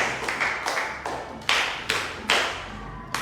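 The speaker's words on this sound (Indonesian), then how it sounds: "Tepuk 1, tepuk 2, tepuk 3, 2 kali tepuk 3" Hands clap in a rhythmic classroom clapping game, sounding as a series of sharp, evenly spaced claps in short counted groups.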